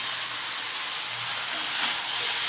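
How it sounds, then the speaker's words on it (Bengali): Boiled cabbage dropped into spices frying in a pan sets off a loud, steady hiss of sizzling oil, close up and continuous, swelling briefly near the end. "এবার আমি সিদ্ধ করে রাখা বাঁধাকপিটাকে দিয়ে দিচ্ছি"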